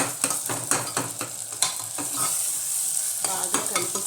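Chopped tomatoes sizzle in a hot pan as a spoon stirs them, close scraping strokes repeating in an uneven rhythm over a steady frying hiss.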